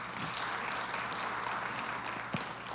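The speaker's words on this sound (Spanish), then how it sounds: "Denle un fortísimo aplauso a nuestro Señor en esta hora." Steady crowd applause in a church service, dense and continuous, with a low hum running underneath throughout.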